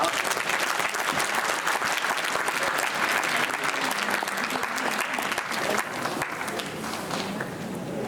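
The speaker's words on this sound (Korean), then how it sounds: "여러분들이 힘차게 우리 박수해 주시면 더 힘이 나시지 않을까 싶습니다" A church congregation applauds steadily for a lecturer during a talk on Reformed life theology. The clapping is continuous and fairly loud throughout, easing slightly near the end.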